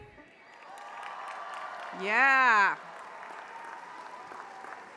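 Graduation ceremony crowd of Georgia Tech science bachelor's candidates rising to cheer, a brief burst of whoops and shouts swelling over background applause, with a voice speaking before and after.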